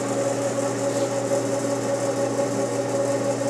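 Motor of an older Tinius Olsen torsion testing machine running steadily, a continuous mid-pitched hum with a droning tonal whine, close and even throughout with no talk.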